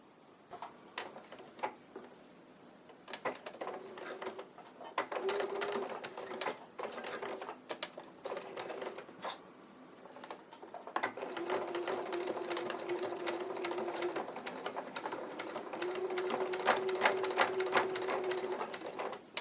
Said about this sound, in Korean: 밑단을 제외한 부분을 1cm 간격으로 재봉을 해주는데요